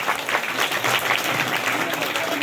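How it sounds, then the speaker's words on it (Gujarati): A crowd at a school enrollment festival welcomes new students with steady, dense applause, and a voice carries over the clapping throughout. "આપણે જોરદાર તાળીઓથી અમને વધાવીએ"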